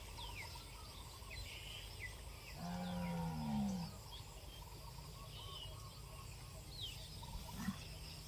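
A cow lets out one long, deep moo in a harvested rice field in the evening, with birds chirping faintly around it and open-air background noise.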